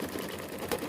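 A sewing machine rattles quickly and steadily as it stitches FlexiFoam onto a mini quilt, a close, even mechanical whir with a slight bump near the end.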